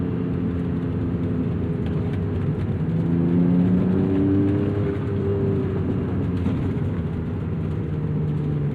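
A 1991 Acura NSX with its VTEC engine revs hard toward 8,000 RPM while driving, a loud, steady engine tone with rising harmonics as it pulls through the range, heard from inside the car.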